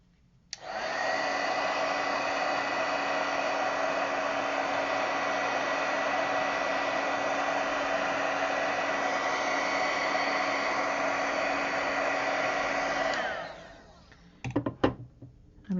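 A hair dryer blows alcohol ink across a painted panel, running as one steady, loud whoosh for about twelve seconds before it cuts off and a few small knocks follow.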